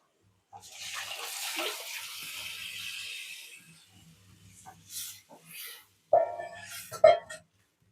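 A tamarind-water and chilli-masala mixture pours and splashes into a pot of fish curry for a few seconds, followed by smaller sloshing sounds and a couple of short louder splashes near the end.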